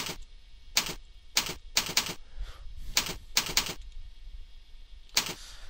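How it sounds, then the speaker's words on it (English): Keystrokes on a computer keyboard entering a program name and website address for a Pidgin install on a Nokia 770, heard as several short bursts of rapid typing separated by brief pauses, close and clear. "we're going to go ahead and type that in"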